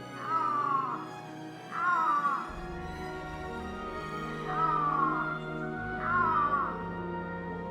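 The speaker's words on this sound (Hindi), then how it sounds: "दुनिया की सबसे डरावनी बिल्ली आइबेरियन लिंक्स की दहाड़" An Iberian lynx in an Andalusian forest gives four loud, drawn-out yowling calls, evenly spaced, over a quiet, steady background.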